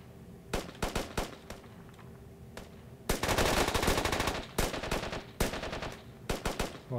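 Gunfire in the military shooter game Squad: sharp individual shots and short bursts, then a sustained heavy stretch of rapid automatic fire followed by more scattered cracks and bursts, loud and close, with no talk.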